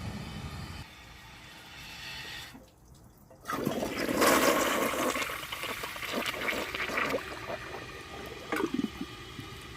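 A 1998 Kohler Wellworth Ingenium toilet flushes nearby, with a click and then a loud rushing swirl of water that gradually settles into draining and refill hiss, no talk.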